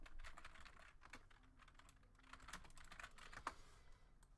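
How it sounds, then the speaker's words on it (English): Quiet, rapid clicking of computer keys, irregular bursts of keystrokes close by with no talking. "I can't type. I have to like warm myself up with typing."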